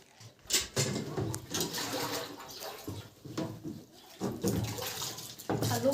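Water pouring into a bucket during outdoor clothes washing, gushing in loud, uneven surges with short pauses between them.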